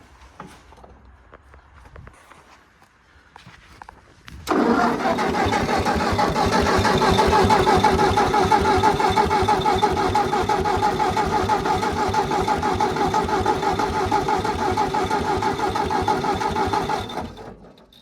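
A Ford half-track tractor engine cranks and catches after a few seconds of quiet, then settles into a loud, steady, close-up running rumble with a fast rhythmic beat that continues until it is cut off near the end.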